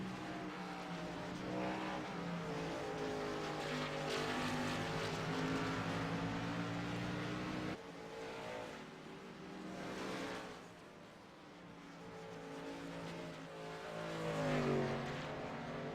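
Race car engines roar at Sonoma Raceway in the iRacing game, a loud sustained engine drone whose pitch climbs and falls through gear changes, dipping briefly before building again, with no voices.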